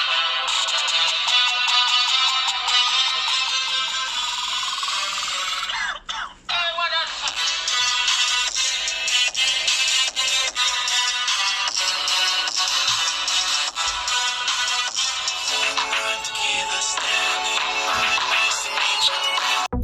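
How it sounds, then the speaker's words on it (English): An Alcatel 3X phone's bottom-firing speaker plays bright, loud music continuously for about twenty seconds, with average bass and one brief dip partway through. "The bottom firing speaker performs great and it is quite loud, and the bass is average"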